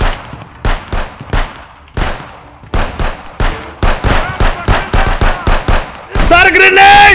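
Sharp shotgun blasts in a video game, about a dozen loud evenly spaced booms, each with a short decay, followed by a dense burst of gunfire and clatter at the end.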